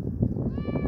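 A neighbourhood cat gives a single short, close meow that rises and then falls in pitch.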